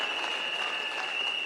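Steady, dense applause from a large audience at a political party gathering at Bomas, many hands clapping together at an even level, with no voices standing out.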